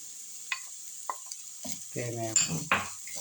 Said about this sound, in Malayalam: ഈ തേങ്ങയും ലോ ഫ്ലെയിമിൽ ഒന്ന് നല്ലപോലെ വഴണം